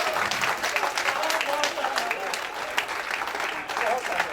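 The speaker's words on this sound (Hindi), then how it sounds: "तालियां कमजोर है ना आपकी" A crowd at a Hindi comic poetry gathering breaks into strong, sustained clapping that fills the room for several seconds, with a voice talking over the applause.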